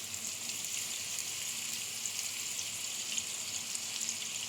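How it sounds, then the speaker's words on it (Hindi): Seekh kebabs fry in a pan over a medium-low flame, giving a steady, even hiss of sizzling oil at moderate level with no voices. "अब हम कबाबों को मीडियम टू लो फ्लेम पर गोल्डन कलर आने तक फ्राई करेंगे"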